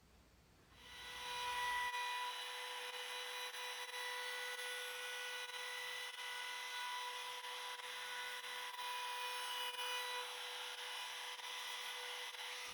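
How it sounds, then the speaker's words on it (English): A power router cuts a recessed outline for a corner brace into wood, spinning up and then holding a steady, loud whine with a high-pitched tone, close and continuous without talk. "I cut out an outline of the brace using a router"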